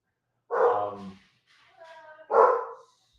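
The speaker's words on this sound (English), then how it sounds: "we got some guard dogs, so everyone be careful" Guard dogs bark indoors, two loud close barks about two seconds apart with a softer whimpering yip between them, no talk over them.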